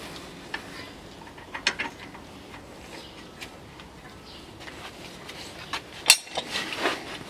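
A ratchet works a nut onto a rear shock absorber of a Land Rover Defender, giving quiet, scattered clicks with a sharper burst near the end over faint background noise.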